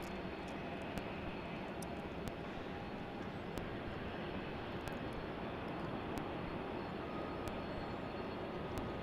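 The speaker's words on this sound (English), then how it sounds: "Silky smooth landy there by that Airbus A321." An Airbus A321 landing at Salt Lake City airport gives a steady, broad roar of jet engines from a distance, with faint clicks over it.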